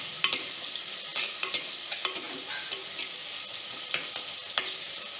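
Tomatoes and onions stir-frying in a pan for a spicy crab fry, a steady close sizzle broken by scraping spatula strokes at irregular intervals, with no voices.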